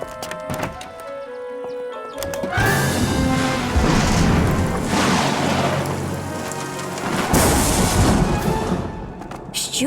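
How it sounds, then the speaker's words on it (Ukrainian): A deep rolling rumble of thunder over steady rain in a children's cartoon, building after a quiet start and swelling again near the end, loud and close. "Грім це всього лише звук, і його не варто боятися."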